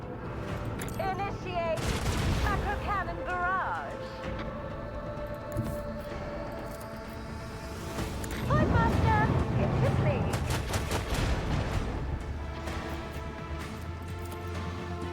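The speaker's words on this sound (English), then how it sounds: "Initiate macro cannon barrage." A macro cannon barrage fires in the Warhammer 40,000 Rogue Trader video game, with two heavy rolling bursts of rapid cannon fire over a constant bed of game sound and voices.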